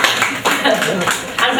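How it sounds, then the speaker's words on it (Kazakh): Applause at a family celebration honouring a grandchild's maternal grandparents, a dense broadband clatter of hands running steadily throughout under a voice on a microphone. "бір қошемет, шапалақ болсын, шапалақ ұрғандар."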